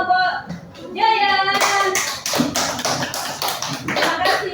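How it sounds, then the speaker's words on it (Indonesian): A class of young schoolchildren clapping together for a group, a burst of quick claps following a brief stretch of children's chatter. "tepuk tangan buat kelompok Jaya"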